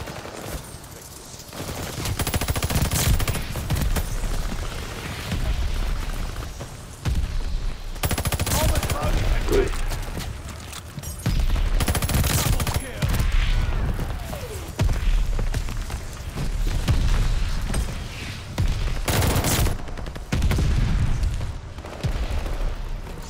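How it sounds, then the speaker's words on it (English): Friendly mortar fire in the video game CUD, Vanguard team deathmatch on the map Mayhem: dense, continuous booms and thudding blasts with rapid gunfire rolling throughout, loud and close, with brief lulls between volleys. "Friendly mortar fire coming."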